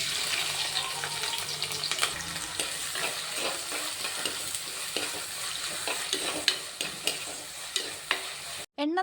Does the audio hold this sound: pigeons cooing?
no